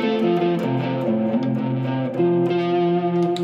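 An electric guitar picks out an arpeggio, a chord played note by note as a steady run of separate sustained tones, through distortion and effects, loud and close with no talking.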